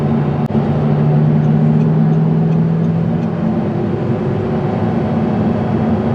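A 2009 Audi R8 with a rear-mounted 4.2-liter V8 drones steadily from the cabin, a loud, even low engine hum with a slight rising pitch as it pulls.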